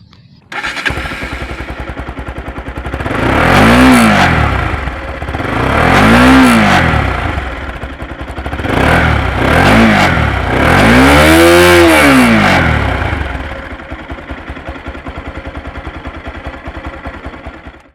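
A modified Bajaj Pulsar 200NS fitted with a Ninja 250 slip-on exhaust idles, then revs hard four times in rising and falling swells, loud and close, before settling back to a steady idle.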